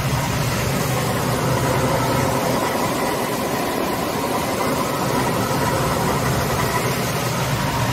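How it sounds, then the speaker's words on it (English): The engine of a 1997 Dodge van with a slipping transmission idles in a steady, continuous rumble, heard up close and loud with no talk over it. "I'll let you guys hear the engine"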